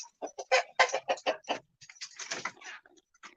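A rooster makes a burst of loud, close, choppy crowing and clucking calls in quick irregular succession, with no talking.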